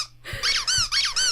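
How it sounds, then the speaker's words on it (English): Repeated squeaky toy squeals, about four high-pitched rubber-duck squeaks in quick succession, loud and close, with no voices. "you heard the rubber ducky"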